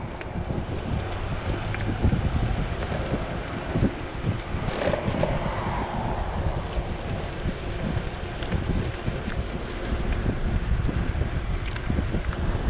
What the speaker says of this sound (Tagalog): Lakas ng hangin, oh, kung nadidinig nyo.